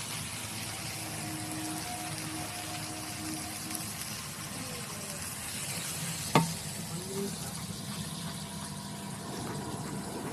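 Kochu loti (taro stolons) fries with stirring in a pan, a steady low sizzle throughout, with one sharp clink near the middle followed by a brief bubbling hiss; close, no talking.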